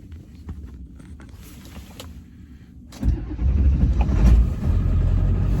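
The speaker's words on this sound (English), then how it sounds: "Got a cold start going." A truck engine cold-starts with a brief crank, then catches and settles into a loud rough idle close by, after some quiet faint background sounds.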